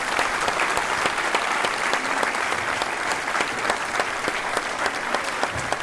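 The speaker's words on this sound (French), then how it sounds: "je pense qu'on peut encore les applaudir" Concert audience applauding an orchestra after a performance of Mozart, Beethoven and Saint-Saëns works; steady dense clapping throughout, fairly distant and even, with no voices on top.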